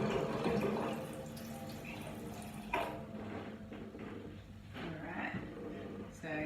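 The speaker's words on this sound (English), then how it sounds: "I'm going to run it under water just nice and softly and get rid of the excess staining" Tap water runs softly over a stained blood smear slide to rinse off excess stain, a steady gentle trickle lasting throughout with some speech-like sounds mixed in.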